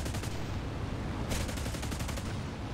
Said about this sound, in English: Guns are very nice, I have to say. Those four guns.